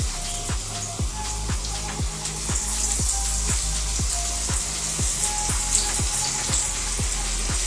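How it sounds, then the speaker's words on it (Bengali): Chicken kebabs deep-frying in oil, giving a constant dense sizzle and bubbling crackle close by, with regular soft popping bursts throughout. "এইভাবে সমস্ত চিকেনগুলোকে আমি ডিপ ফ্রাই করে নেব"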